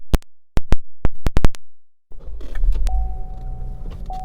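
Power windows on a 2018 Chevrolet Equinox LT: a quick series of sharp clicks is followed by the close electric motor whine of a window moving, with no speech.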